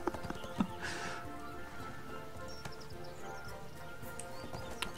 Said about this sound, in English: I can't control my horse.